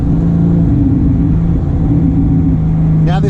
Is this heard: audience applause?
no